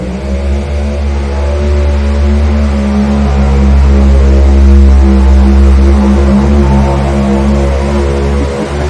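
A loud, deep roar from a four-engine modified pulling tractor holds steady and close, swelling slightly as it revs, with a heavy rumbling low end throughout and no voices.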